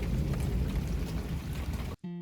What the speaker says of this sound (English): it's raining so badly, I got back just in time